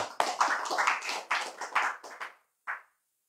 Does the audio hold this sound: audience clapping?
yes